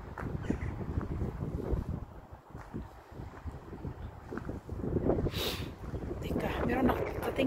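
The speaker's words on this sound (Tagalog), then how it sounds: "Sobrang hangin din dito." Strong wind gusts buffet outdoors at a historic priory, roaring and rumbling in uneven surges with bursts of microphone buffeting, loud and close throughout, no talk.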